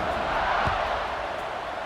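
A stadium crowd in an American football video game (Michigan vs Washington) roars as a continuous, broad, steady wash of cheering and buzzing noise with no pauses.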